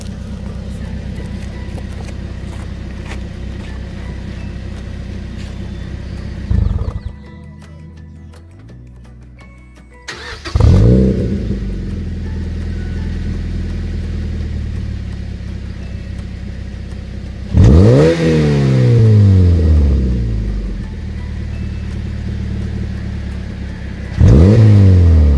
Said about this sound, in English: I'm going to start it back up, and then I'll rev it a little so that we could hear and see what it's like.